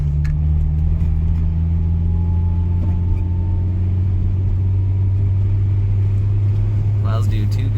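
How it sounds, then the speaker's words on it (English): A 2023 Acura Integra with a six-speed manual holds second gear on a snowy road, giving a loud, steady engine drone and low rumble inside the cabin. "I'm in second gear here."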